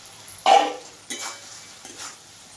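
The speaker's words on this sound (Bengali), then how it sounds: "এবারে আমি মাছ ভাজা গেলে এইটাতে ছাড়িব" Pieces of fried Cheng fish slid one by one into sizzling spiced masala in a pan for fish curry, giving three short hissing bursts, the first loudest, over a quiet kitchen background.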